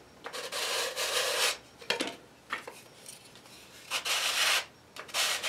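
Hand sanding of a model aircraft wing panel with a sanding jig, rough scraping strokes in uneven bursts with short pauses between, close and fairly quiet.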